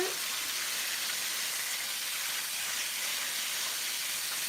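Chicken wings frying in hot grease in an uncrowded skillet, a continuous loud sizzling hiss that holds steady throughout with no talking.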